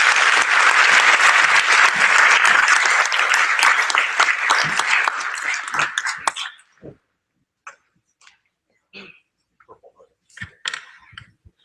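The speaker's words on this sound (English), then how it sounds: "Let's have a round of applause for these cadets" Dense applause for cadets at a high school NJROTC change of command ceremony, loud for about six seconds, then tapering into a few scattered claps.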